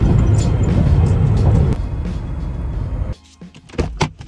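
A car travels along a parkway, a steady interior road rumble that drops partway through and gives way to quieter thumps and shifting noises near the end.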